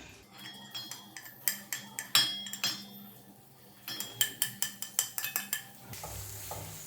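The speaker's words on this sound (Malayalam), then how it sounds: "എണ്ണ നന്നായി ചൂടായി കഴിയുമ്പോൾ നമുക്ക് ഈ ചെറിയ ഉള്ളി ചേർത്ത് കൊടുക്കാം" Shallots being stirred in hot oil in a pan for mutton pepper roast, with quick bursts of sharp metal spoon clinks and scrapes against a soft sizzle, close by with a few quiet pauses.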